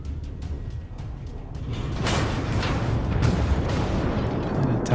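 Naval guns from an enemy ship fire in World of Warships, a low rumbling boom building into sustained heavy blasts and a continuous dense roar of battle noise.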